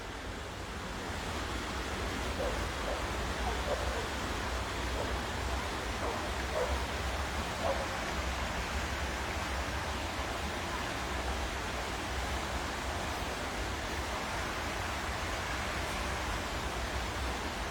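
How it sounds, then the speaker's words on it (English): A rain-swollen river rushing fast, a steady broadband roar that stays loud and unchanging throughout, heard outdoors with faint background sounds on a dull, rainy walk. "Now although it's dull and it's been raining, obviously with the river rising,"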